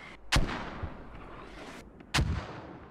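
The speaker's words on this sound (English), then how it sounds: "They're softening up the target now with the mortars, and they're coming in super close." Two heavy mortar impacts in a video game match, each a sharp close boom followed by a rumbling tail, spaced about two seconds apart over low background noise.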